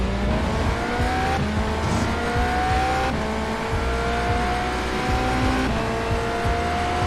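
An IMSA GTE race car in iRacing at Le Mans weaves to warm its tires, its engine a loud, continuous droning roar with slight pitch shifts and no talk.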